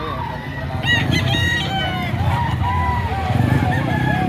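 A rooster crows nearby, its call rising and falling over a busy outdoor background with low rumbling noise.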